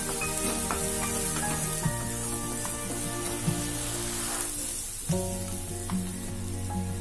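Chicken fries in a pan with garam masala and coriander powder, holding a steady bright sizzle broken by occasional stirring clinks and scrapes.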